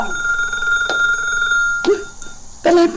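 A telephone bell rings close by in a home, ringing continuously with a bright metallic trill, broken by short bursts of other noises and movement.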